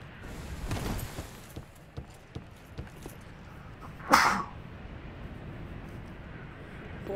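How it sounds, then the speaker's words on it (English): A single sharp sneeze bursts out partway through, loud against a quiet background of soft scattered clicks and low rumble. "Disoriented from that sneeze now."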